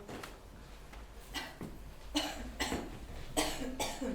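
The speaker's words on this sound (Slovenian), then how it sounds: "Vas muči kašelj?" An actor coughs repeatedly during a stage performance of Tartuffe by a school theatre group, several harsh bursts spaced across a few seconds in a quiet hall.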